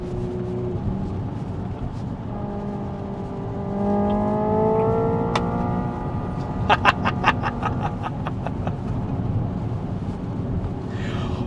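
A Hyundai Ioniq 5 N electric car drives and accelerates, its rising synthetic whine climbing in pitch over steady road and wind noise, followed by a quick series of sharp stepped pulses like simulated gear shifts, with no talking.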